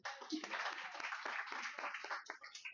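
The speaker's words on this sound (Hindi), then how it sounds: "जोरदार तालियां" Applause from a crowd, dense and continuous clapping that carries on throughout, moderately loud with some voices mixed in.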